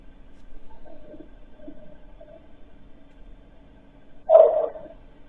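A dog barks once in a played-back recording: a single sharp bark stands out near the end after faint, muffled noises, and the whole clip sounds distant and low in quality.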